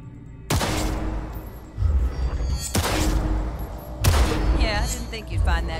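Pistol shots in a tactical target practice program in the video game Cyberpunk 2077, three loud sharp cracks spaced a couple of seconds apart, each trailing off into a ringing echo and rattling tail.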